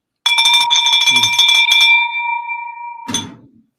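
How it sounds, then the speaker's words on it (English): A single bright bell is struck once at an event, loud and close, its metallic tone ringing on and slowly fading, followed by a cheer. "Somebody wants me to ring the bell for Ryan"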